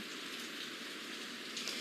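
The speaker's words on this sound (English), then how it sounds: "I know that area just continues to get pounded by rain." Heavy rain from Hurricane Milton pours down in Wesley Chapel, Pasco County, a dense, steady roaring hiss of water with no pauses.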